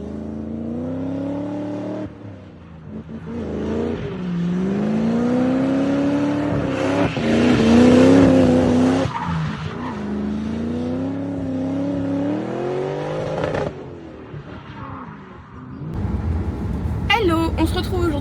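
A race car on a test run at a circuit, for a Viking Cup racing round, drones loudly as its engine climbs and drops in pitch through repeated acceleration and gear changes, with a few brief pauses.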